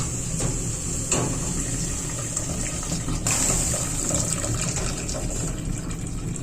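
Leftover hot tea water poured into a pot of roasted red pepper soup, a soft continuous trickle and splash heard up close and fairly quiet, with a few small clinks and no voices.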